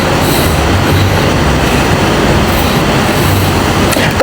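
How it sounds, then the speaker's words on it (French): A train passes close by with a loud, steady rolling rumble of wheels on rails, brief metallic squeals near the end, and no pauses. "Quand vous voyez un train comme ça, il va arriver à destination."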